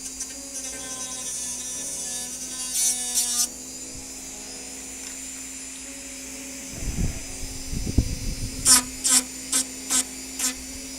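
A rotary tool sands a 3D-printed necklace with a thin, steady high-pitched whine running throughout, joined by scraping contact bursts and a series of short gritty grinding pulses near the end.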